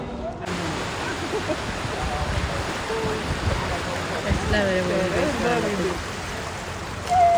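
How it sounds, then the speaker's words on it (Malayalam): Rainwater rushes over a flooded road in Dubai, a broad steady wash of flowing water close by, with a voice talking faintly underneath. "വെള്ളം ഇങ്ങോട്ട് വരുന്നു ബീച്ച് പോലെ കണ്ടോ"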